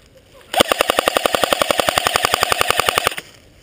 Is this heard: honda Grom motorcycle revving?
no